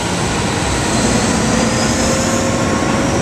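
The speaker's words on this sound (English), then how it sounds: "Oh look, it is a train." A train passes close by as a loud, steady, broad rumble with no voices.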